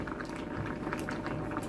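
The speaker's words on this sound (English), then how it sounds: "It's boiling up nicely." A pot of salted water with breadfruit boils steadily nearby, a dense continuous bubbling and gurgling at moderate loudness with no voices over it.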